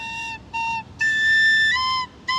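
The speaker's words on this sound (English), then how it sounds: "It's very loud on the whistle. It's very shrill" Tin whistle playing an Irish tune, sounding bright, shrill high notes in short separate phrases with one longer held tone, loud and close, with no voices.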